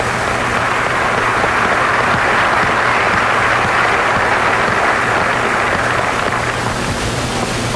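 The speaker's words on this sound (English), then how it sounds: "Give yourselves a round of applause, please" A large crowd at a 1982 Plymouth basketball celebration claps in a dense, continuous roar of applause, loud and unbroken throughout, with no voices standing out.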